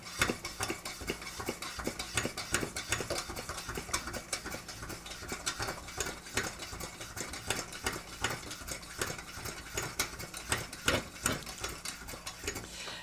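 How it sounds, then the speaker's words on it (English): Hand pump working on the fuel tank of a Coleman kerosene lantern: a fast, even run of close metallic clicks and squeaky strokes repeating for about thirteen seconds, with no one talking. "now about half the alcohol has been burned through, so I need to pressurize the tank"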